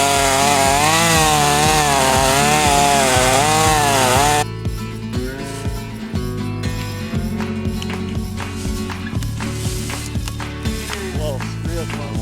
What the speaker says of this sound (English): I'm going to hinge cut a couple of these right on top of this bigger tree